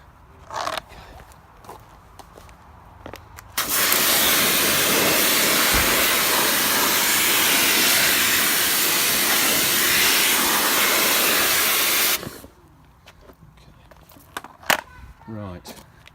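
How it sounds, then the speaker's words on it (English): A pressure washer blasts mud out of a removed rear wheel arch liner from a Land Rover Freelander 2, a loud continuous hiss lasting about eight seconds, with quieter handling noises before and after. "Let's see if we can get that now with the pressure washer."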